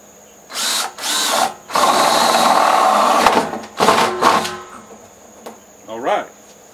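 A power drill bores a hole through a plastic container for a hog nipple drinker, with several short loud bursts, one longer sustained run, and brief pauses in between.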